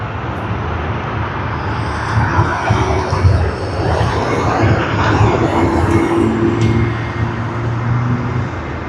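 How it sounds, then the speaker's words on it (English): A Boeing 737 taxiing at Sydney Airport gives a steady, loud broadband jet rumble and whine that swells slightly midway, heard from nearby outdoors with faint tonal hums underneath. "You see a 737 taxiing."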